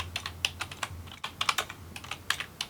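Rapid typing on a computer keyboard, close and clear, with a steady run of crisp key clicks and short pauses.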